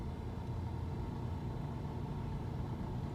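A car engine runs steadily during a driving lesson, a constant low rumble with a mid-range hum, fairly quiet and unbroken, with no talking.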